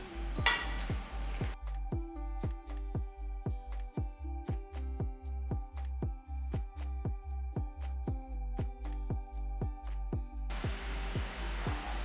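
Murukku frying in hot oil, a steady sizzle with a regular run of soft ticking pops through the middle, close by and moderately loud.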